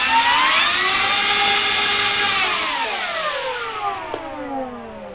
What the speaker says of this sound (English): And most importantly, Motor on.